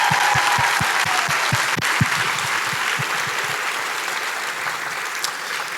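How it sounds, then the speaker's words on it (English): Audience applause at a spring graduation ceremony, a dense, loud wash of many hands clapping from start to finish, with a few sharper individual claps standing out near the front and the sound slowly easing toward the end. "One last round of applause for them."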